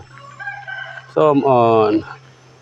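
A rooster at a temple in Lampang, Thailand, gives one loud, close cock-a-doodle-doo crow lasting under a second, rising from a lower hum after a softer lead-in.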